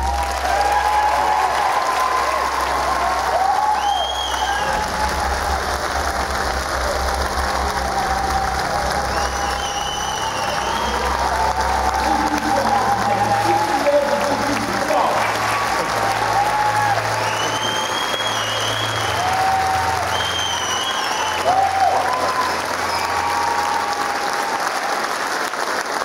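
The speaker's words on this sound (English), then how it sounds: "Another round of applause" Audience at the BAFTA Children's Awards giving a long round of applause, sustained dense clapping with some cheers, loud and unbroken throughout, while voices talk faintly over it.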